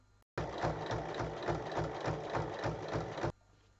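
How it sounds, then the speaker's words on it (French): A sewing machine stitches around a zipper pinned onto fabric, running in one steady, close, rhythmic burst of about three seconds with a clear repeating needle beat, starting and stopping abruptly, with no talk. "Je glisse ma fermeture à glissière en dessous et je vais épingler tout autour. Et il faut piquer tout autour."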